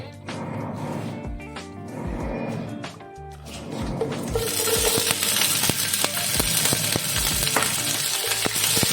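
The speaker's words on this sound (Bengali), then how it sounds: "দিয়ে মোটামুটি মিডিয়াম ফ্লেমে একটু ভাজা করে নেবো" Soaked jujubes (kul) fry in oil in a pan for pickle over medium flame, with a steady loud sizzle that swells midway, plus scattered clinks and scrapes of stirring, close and continuous without talk.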